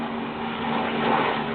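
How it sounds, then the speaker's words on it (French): A propeller airplane passes overhead outdoors, a steady, moderately distant drone that swells slightly mid-clip, with no talking. "Désolée pour l'avion qui passe"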